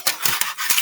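Scissors snip through a styrofoam egg carton in several quick, squeaky crunching cuts, close and sharp, with brief gaps between the strokes.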